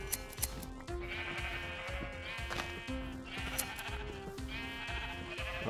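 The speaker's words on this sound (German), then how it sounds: "Da ist noch ein Schaf." Sheep in the Minecraft video game bleat over and over in steady, clear calls against a constant tonal background, with no talking.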